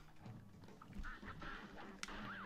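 Cartoon ducks quacking in the Cuphead video game, a few short nasal calls over busy game music and effects, fairly quiet in the mix.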